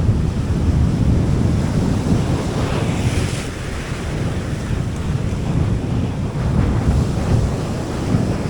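Strong wind blows across the open sea, with steady gusty roar and crashing surf, heard close and loud throughout with no talk.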